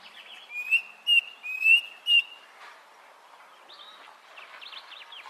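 Bird call, a clear whistled note repeated four times in quick succession, followed by fainter chirping trills, close and alone in a quiet setting.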